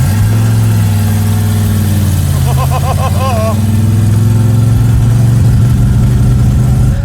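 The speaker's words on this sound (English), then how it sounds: "I'm driving a 383 4-speed 68 Roadrunner." A 1968 Plymouth Road Runner with a 383 and four-speed manual drones loud and steady on the road, a deep constant engine hum filling the cabin, with a brief voice rising over it midway.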